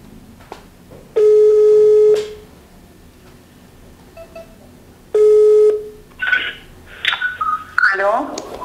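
A phone call tone plays twice in long steady beeps with a pause between, followed by a burst of warbling electronic tones and chirps.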